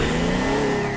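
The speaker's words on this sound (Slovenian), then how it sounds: "Wow, to pa je hiter avto" A fast car in the Teardown game revs loudly and steadily, its engine note rising in one short, continuous burst with no voices over it.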